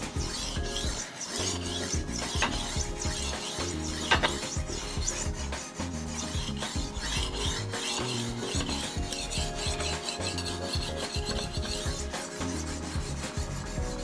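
A chef knife is sharpened on a 1200 grit diamond stone, with close, continuous scraping strokes rasping back and forth in a quick, even rhythm and no talking.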